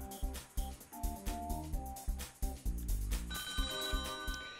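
A telephone bell rings in repeated bursts over a loud musical background, the rings steady and prominent throughout.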